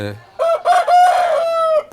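A country chicken rooster crows once, close and loud, in a drawn-out call with a few breaks and a long held final note.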